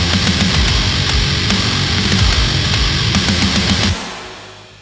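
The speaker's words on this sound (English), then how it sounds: "now the drums sound like this" Heavily compressed metal drums squashed with OTT multiband processing, with a loud, dense wall of kick, snare and cymbals that stops suddenly and leaves a short fading tail.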